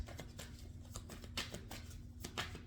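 Tarot cards shuffled by hand in a quiet room during a card reading, a soft, low-level run of papery riffles and brisk flicks over a faint steady hum.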